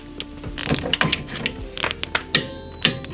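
A torque wrench tightens a suspension link nut to 70 Nm up close, making irregular ratchet clicks and light metallic knocks in short bursts over a quiet workshop background.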